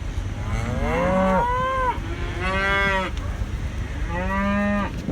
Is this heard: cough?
no